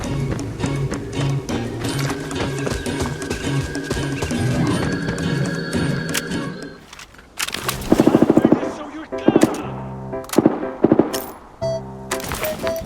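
Gunfire in the first-person shooter Arena Breakout, a rapid burst of loud close shots followed by scattered single cracks, heard after a stretch of game ambience and tones.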